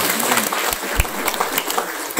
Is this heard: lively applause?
yes